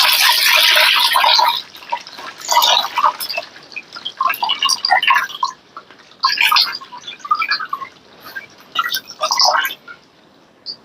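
A single-colour saree is washed by hand in water, producing loud bursts of sloshing and splashing separated by short quieter pauses.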